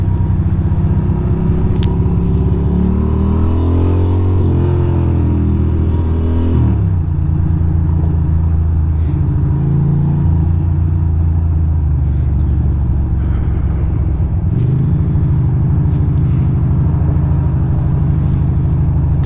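A crusty 620 motorcycle, dirty and unwashed, idles steadily after starting up on a spring street in NYC, its loud low engine rumble continuous throughout with a few small throttle swells.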